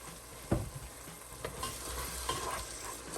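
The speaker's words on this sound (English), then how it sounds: "I'm going to deglaze with some of that wine" Wine poured over onions in a hot pan, a sharp sizzling burst followed by continued frying hiss and intermittent stirring scrapes and clinks, close and with no talking.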